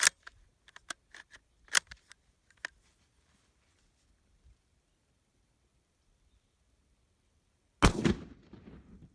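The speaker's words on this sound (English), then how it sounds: "Okay, that one fired on time." Surplus Chinese 1952 8mm rifle cartridge firing, one sharp, loud close gunshot with a short ringing tail, preceded by scattered small mechanical clicks and clatter in otherwise near silence.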